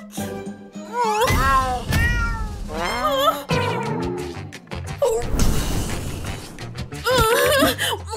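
A cat meows repeatedly in a mansion room, several loud, close, drawn-out cries with rising and falling pitch, separated by brief thumps and bumps.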